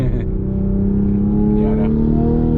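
A 2020 Toyota GR Supra accelerating on the road, a loud droning engine note rising steadily from inside the cabin, with a couple of brief crackling exhaust pops near the start and again toward the end.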